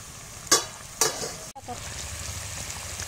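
Green chillies drop into sizzling masala for a Bengali-style paneer curry, with two brief bursts of frying noise followed by a steady low sizzle.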